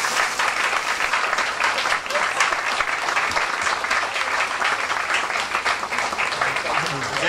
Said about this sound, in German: ganz großer Applaus für die Musikschule